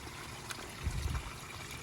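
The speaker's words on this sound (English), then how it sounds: "the water flows from one side to the other, comes out here" Water trickles and flows through a garden pond planted with water hyacinth, a soft, steady gurgle with a brief fuller splash in the middle, faint and close.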